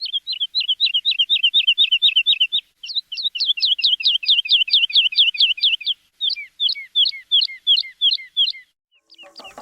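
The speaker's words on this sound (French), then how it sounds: "ils annonçaient le printemps en gazouillant ou en s'appelant d'un taillis à un autre" Birds chirp in spring, calling to each other from thicket to thicket, with rapid repeated bright notes in quick bursts, loud and close, separated by short pauses and no voices.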